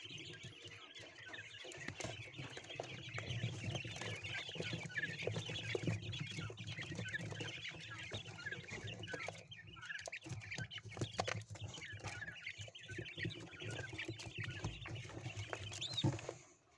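Faint, busy cheeping of ten-day-old Japanese quail chicks carries on without pause, many small peeps overlapping at a quiet, close level with no voices.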